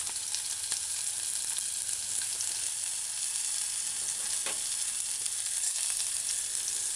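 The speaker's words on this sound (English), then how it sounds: "add the onions, diced onions, and allow it to saute" Diced onions sauté in hot oil in a pot, giving a continuous soft sizzle with occasional faint pops, steady and fairly quiet throughout.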